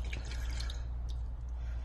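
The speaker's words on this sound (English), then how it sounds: "fill up your same tomato paste can with water and you're going to pour it in" Water poured from a tomato paste can into a cooking pot, a steady close trickling and splashing over a low hum.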